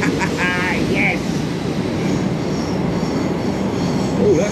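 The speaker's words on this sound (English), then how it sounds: "Train!" A train rumbles past steadily with rattling wheels and brief high squeals, while a voice calls out faintly over the noise.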